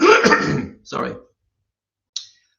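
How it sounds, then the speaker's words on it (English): A man gives a short double cough, a harsh rough burst followed by a smaller one. Silence follows, then a faint click. "I got a bit of a cough"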